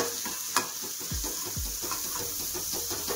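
Crushed garlic fries in butter in a pan for Indian pav bhaji, giving a steady close sizzle with a few scraping stirs and one sharp clink of a utensil, and no one speaking.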